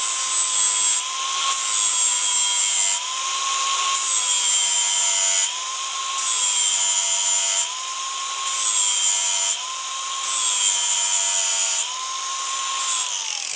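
A grinder fitted with a 40 grit wheel works a weld on sheet metal for running boards, a loud whining grind in repeated passes of about a second or two each with short pauses between.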